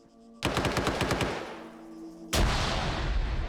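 Rapid machine-gun fire from a video-game firefight, a loud close rattling burst that tapers, then a second heavy volley with a booming blast, no voices over it.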